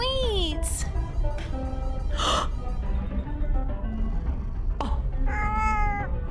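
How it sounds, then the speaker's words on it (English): A cat meows in a video game, several drawn-out, wavering meows and a short purring grumble, loud and close, with breathy vocal sounds mixed in. "You can pet the cat!"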